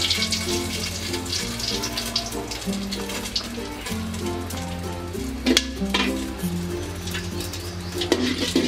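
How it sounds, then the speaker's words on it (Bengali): Whole cardamom and cinnamon sizzle in hot oil for chicken biryani, a steady close crackle and hiss of frying with soft stirring sounds and a faint background tone. "তেলটা গরম হলে আমি এখানে এলাচ আর দারচিনি দিয়ে দেব।"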